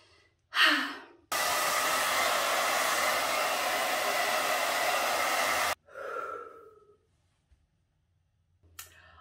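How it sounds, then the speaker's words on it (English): A handheld hair dryer blows hair after a home curtain-bangs cut, roaring steadily for about four seconds between short breaths and soft rustling, close to the microphone. "Now we need to just blow dry it and style it and see what the final result looks like."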